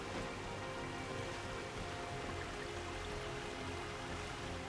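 Waterfall in the Darksiders Genesis video game, a dense, steady rushing hiss of falling water that holds constant and fairly close throughout, with no voices.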